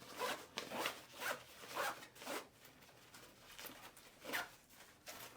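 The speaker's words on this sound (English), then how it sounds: "if you don't want that expandability, you just zip this back up" A zipper on a Vanquest Sticky Cube gear pouch is pulled shut in a series of short rasping strokes, close up and fairly quiet, with brief pauses between pulls.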